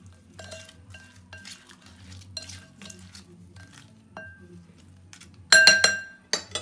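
Raw shrimp being tossed with spices in a bowl, soft stirring and scraping for several seconds, then a louder burst of glass and metal clinks near the end, close and with no talk.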